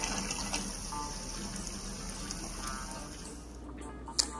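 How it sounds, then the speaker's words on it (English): Steady broadband rush of running tap water, continuous and fairly close, with a small clink near the end. "Just letting the water run, of course."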